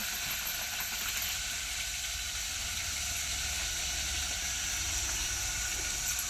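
Chopped onion sizzles steadily in hot oil in a home kitchen, a continuous bright hiss and crackle holding an even level throughout, with no talking over it.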